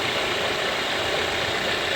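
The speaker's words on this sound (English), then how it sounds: "The car is just idling, and as you can see, that's the serpentine belt." A car engine idles steadily with its serpentine belt running, a smooth, even mid-pitched hum and whir held close and constant throughout.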